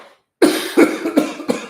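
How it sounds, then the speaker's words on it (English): Four sharp coughs in a row, close and loud, each a quick burst spaced roughly a third of a second apart after a brief silence. "I'm going to cough for a second."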